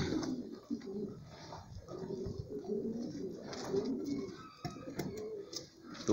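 Pigeons in a loft coo in soft, repeated rolling calls while they feed, and several birds overlap close by.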